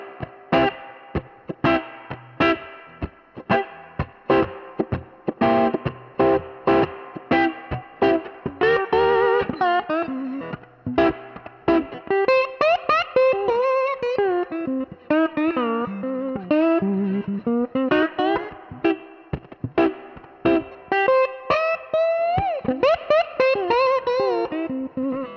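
A Gibson 61 reissue SG played with a slide runs through a 1966 Fender Vibrolux with light overdrive. Picked notes and chords ring with slide glides and a gritty, fat tone and some reverb, with no voices.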